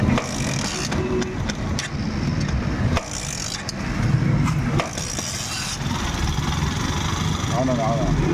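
A motorcycle engine idles with a rough, uneven chug close by, while someone talks over it and occasional clicks and knocks sound.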